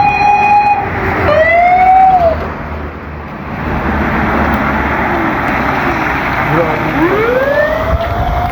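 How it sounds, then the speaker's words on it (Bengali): A loud wailing ambulance siren rises and falls close by as it passes from behind at night, fading briefly and then sweeping back in over steady road and engine noise. "এই যে আমার পিছনে অ্যাম্বুলেন্স আসতেছে।"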